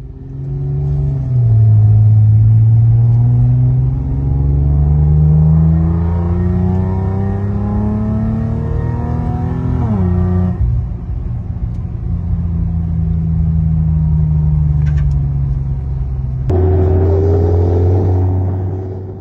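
Sports cars, including a Jetta, Supra, Skyline and Honda Civic, drive up a mountain road toward the Col de Lure, with loud, steady engine rumble that rises and falls through gear changes and short bursts of acceleration.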